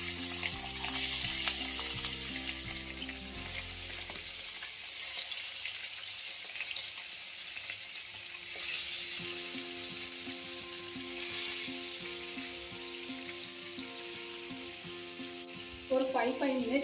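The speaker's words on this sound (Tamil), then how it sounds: "ஆயிலில் கொஞ்சம் டர்மரிக் பவுடரும் கொஞ்சோண்டு சில்லி பவுடர் சேர்த்து கொஞ்சம் சால்ட்டு சேர்த்து நம்ம ஃபிஷ்ஷு ஃப்ரை பண்ணிக்கலாம்." Rohu fish pieces fry in oil seasoned with turmeric, chili powder and salt, making a continuous crackling sizzle that runs throughout, with tuneful background music underneath and a brief splash-like burst near the end.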